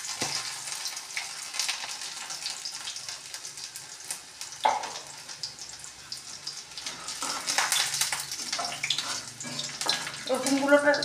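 Garlic and cumin seeds frying in oil in a pan, a steady sizzle of moderate loudness running throughout, with a few brief clinks and a rise in activity near the end.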